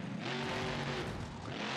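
Steady engine drone from a car in BeamNG.drive, a close, continuous rumble with a slight pitch swell in the middle and no voices over it.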